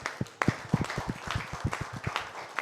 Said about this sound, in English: please join me as we applaud them for having supported us to have this done